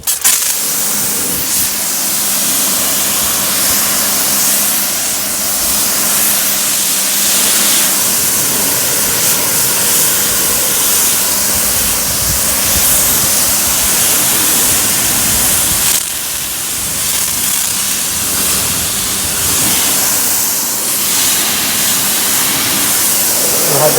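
A pressure-washer spray blasts foam shampoo off a dirty car in a steady, loud, continuous hiss. It dips briefly around the middle and runs throughout with no pause.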